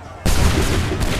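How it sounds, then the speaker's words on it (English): A musket volley on command in Assassin's Creed 3 erupts as one sudden, loud, dense blast of massed gunfire that stays full and roaring through the rest of the moment. "Open fire. Wait for my signal. Fire!"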